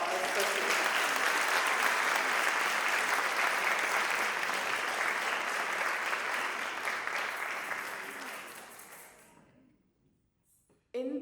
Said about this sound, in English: Please give another round of warm applause for Snigdha.